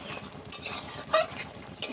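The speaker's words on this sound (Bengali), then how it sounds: "এইভাবে কিন্তু কষিয়ে কষিয়ে রান্নাটা করতে হবে।" Malabar spinach and lotte fish stir-fried in a pan, with a close scraping and sizzling hiss that rises in three short bursts of spatula strokes over a steady low sizzle.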